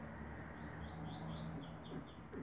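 A songbird chirps in a short run of quick, bright tweets, rising in strength toward the end over a steady faint hum of background noise.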